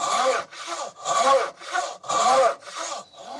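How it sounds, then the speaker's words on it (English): A turning saw cuts through wood by hand, with a steady rhythm of about seven rasping push-and-pull strokes, each swelling and fading, close and alone with no voices. "We're now moving on to this turning saw."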